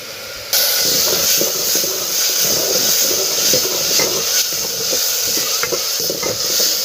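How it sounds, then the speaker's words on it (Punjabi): Tadka tempering sizzles and hisses loudly in a hot pan in a village kitchen, with steady frying noise and occasional scrapes and clinks of stirring throughout, no talking. "ਮੈਂ ਤੜਕਾ ਭੁੰਨ ਰਹੀ ਹਾਂ"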